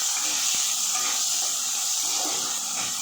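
Spices sizzle in hot oil as tempering for a khichuri and vegetable dish cooked for a Radha Ashtami puja offering, a steady loud close hiss that continues throughout without talk.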